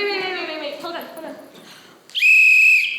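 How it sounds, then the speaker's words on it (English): A whistle is blown once in a long, loud, shrill blast lasting nearly a second during a high school theatre performance, right after people talk excitedly. "I think I have a whistle in here."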